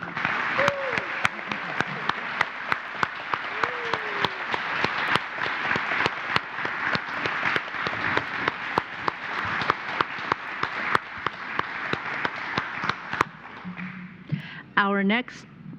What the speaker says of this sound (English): let us offer our warm applause to the newest members of the Unitarian Universalist Church of Fresno